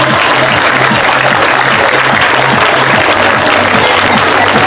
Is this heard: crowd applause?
yes